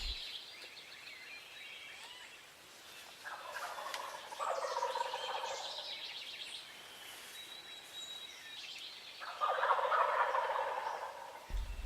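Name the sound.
wild turkeys gobbling from their roost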